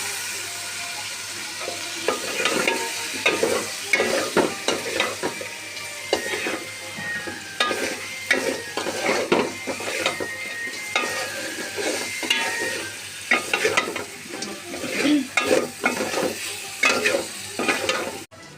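Chicken and potatoes frying in cooked-down spiced masala for chicken khichuri, busy scraping and clattering of a ladle stirring against the pot over a continuous sizzle, close and fairly loud.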